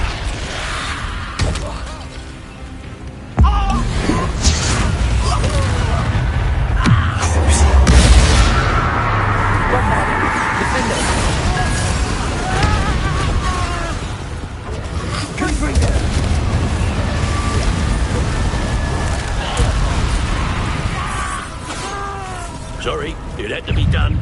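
Bombarda blasting spell in Hogwarts Legacy, a loud booming explosion that bursts out and rumbles on, with further heavy blasts and debris, under game voices and battle noise.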